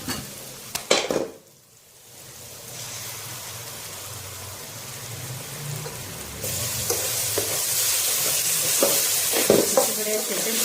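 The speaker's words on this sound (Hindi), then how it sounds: "अब इसमें डालूंगी मैं टमाटर का पेस्ट।" Tomato paste masala for spiced bhindi fries and sizzles in a pan, a steady hiss building through the clip with occasional stirring scrapes, close and fairly loud, no talking.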